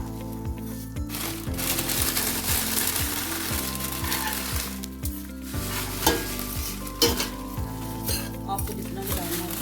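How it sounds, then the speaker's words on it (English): Vermicelli frying in butter in a pan on medium heat while being stirred, producing a continuous sizzle with rhythmic spoon scrapes and clinks against the pan, with a faint music bed underneath. "We're just gonna stir it for about a minute or two."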